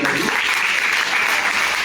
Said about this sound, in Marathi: त्याच्यासाठी पालकांकरता जोरात टाळ्या वाजवल्या पाहिजे.